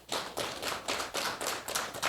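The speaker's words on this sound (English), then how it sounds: "I think he must get a big round of applause for that." A small audience applauds a 91-year-old speaker, with a handful of people clapping in an even, rhythmic patter that stays fairly soft and steady throughout.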